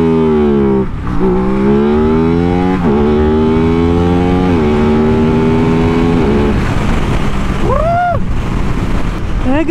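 An Aprilia RS660 sport motorcycle revs hard and loud, climbing through several gears with brief dips at each upshift, then easing off as the engine note falls away near the end.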